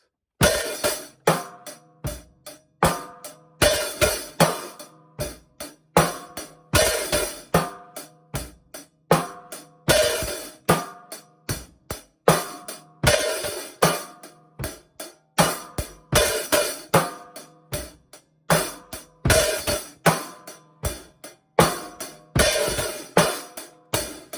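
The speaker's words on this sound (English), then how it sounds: "we've got two accents at once on the first two" A steady drum groove with sharp, bright hi-hat hits and regular accented strikes, two accents falling together on the first two hi-hat notes, played alone in a repeating pattern.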